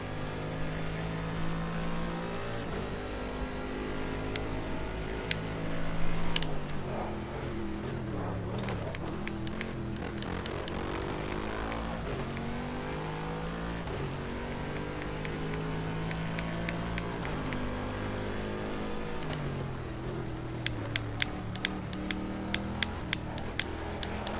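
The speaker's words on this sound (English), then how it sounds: "This pitchy engine we get to deal with in the 15 minutes." A high, whining car engine in a video game, holding a steady pitch that shifts with throttle, with several sharp clicks and knocks near the end.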